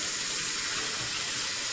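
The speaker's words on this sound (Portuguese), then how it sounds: "Vamos ver se sai água quente aqui." Tap water runs steadily into a sink in a new apartment kitchen, a constant broadband hiss with no talk over it.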